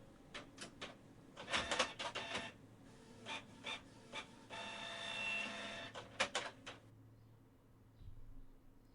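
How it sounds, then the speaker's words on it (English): A printer in the video game Low Effort Romance runs in bursts of mechanical clacking and whirring, with a steadier grinding pass in the middle, close and fairly faint. "The sound of the printer is getting intense and getting aggressive."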